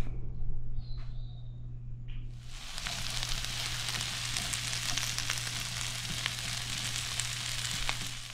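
Tofu scramble hitting a lightly oiled pan, a loud steady sizzle and crackle that begins abruptly after a couple of quiet seconds and continues evenly, close and alone, over a low background hum.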